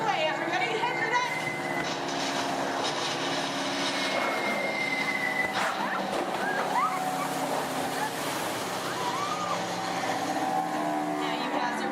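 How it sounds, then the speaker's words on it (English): Ride show sound effect of approaching bomber plane engines, a steady loud droning rumble mixed with whooshes and effects at a Disney park attraction, with crowd and voices underneath. "You hear more enemy planes approaching."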